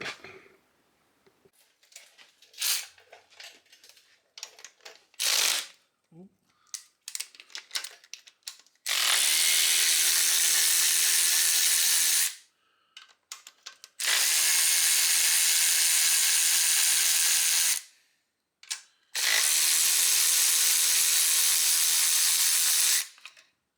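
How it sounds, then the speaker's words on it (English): Bolts are removed from an MK6 car during a turbo build. Light metallic clinks and taps give way to three long, loud whirring tool bursts of several seconds each, separated by short pauses. "We're going to get the 4 bolts out and pull it off."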